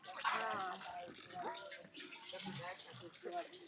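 Water runs from a pipeline tap into containers at a dawn queue for water in Ranchi, Jharkhand, a steady gushing splash under nearby talk.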